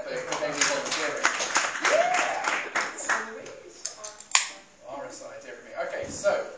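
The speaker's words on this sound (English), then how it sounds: "So, big round of applause for Louise there for being volunteering." A short burst of clapping from a small conference audience, with cheering and voices mixed in over it.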